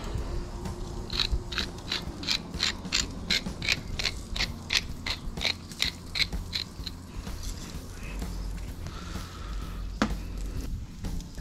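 A pepper grinder cracks in a quick series of crunchy ratcheting clicks, close and rhythmic, over a low background hum, then stops.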